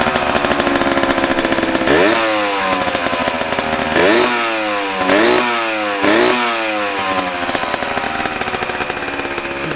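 A 1982 Honda MB5 two-stroke motorcycle engine running slightly out of tune, a loud close buzzing idle broken by four sharp revs that rise and fall back, with no voices.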